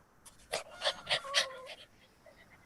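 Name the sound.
dog panting heavily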